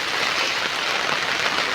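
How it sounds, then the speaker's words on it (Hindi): Heavy rain pours down steadily, a loud, even, broadband hiss with no breaks or voices. "प्रबल वर्षा है यहाँ"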